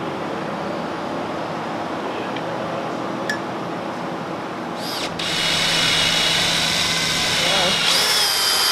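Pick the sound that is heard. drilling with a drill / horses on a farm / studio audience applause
drilling with a drill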